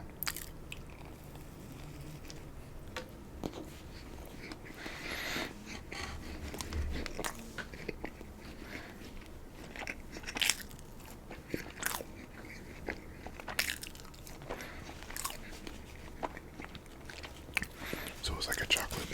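Dunkin' Donuts assorted donuts, including chocolate with sprinkles and Boston cream, being bitten and chewed close to the mic with soft, moist crunches and squishy mouth sounds, paced through the clip amid faint whispering.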